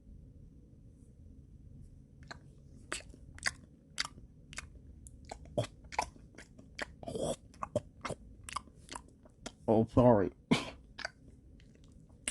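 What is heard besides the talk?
munching, chewing food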